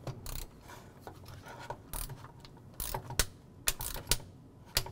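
A torque screwdriver set to 4.5 Nm tightens a conductor terminal on a surge protector, giving a series of sharp ratcheting clicks and snaps in irregular bursts, close and fairly quiet.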